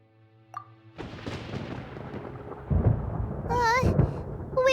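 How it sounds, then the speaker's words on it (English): Thunder in the video game Genshin Impact, a soft tone followed by a long, rolling rumble that builds and swells, with warbling game sounds rising over the later part. "Paimon hears thunder!"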